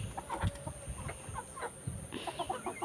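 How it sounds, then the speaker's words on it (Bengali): Chickens clucking close by while being fed rice paddy, a cluster of short soft clucks and scratchy pecking sounds scattered over a quiet rural background, no speech. "এই যে দেখো মুরগিগুলোকে এখানে ধান দিয়ে দিচ্ছি খেতে"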